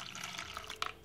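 Warm water poured into a bowl of fresh yeast and warm milk while making Ramadan pide dough, a brief, quiet splashing trickle ending with a couple of small drips.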